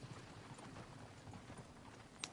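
Horse hooves clip-clop steadily at a moderate distance in a PS4 video game, a soft continuous trot with a brief sharp click near the end and no voices.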